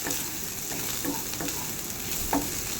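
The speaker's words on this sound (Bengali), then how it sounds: "পেঁয়াজটা নিয়ে ভেজে নিচ্ছি আমি" Onions fry in oil with nigella seeds for a kajuli fish chorchori, a soft continuous sizzle with occasional light scrapes and taps of a spoon stirring the pan, close and fairly quiet.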